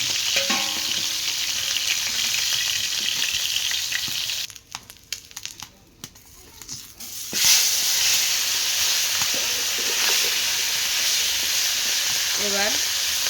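Fish frying in hot oil in a pan in a village kitchen, a steady loud sizzle that drops away briefly midway, then returns with light stirring clicks.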